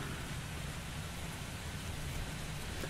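Steady simulated rain hisses evenly in the Airport Madness 3D airport game, set at Hong Kong, a soft broadband wash without breaks or voices.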